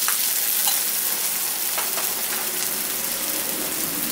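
Chopped tomato and green chilli hit hot oil with well-browned onion for a Bengali pumpkin curry, giving a steady, close, bright sizzle with scattered crackles throughout and no talking.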